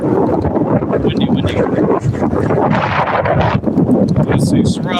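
Strong wind buffets the microphone outdoors as a loud, continuous, rumbling roar that fills the whole stretch with no break.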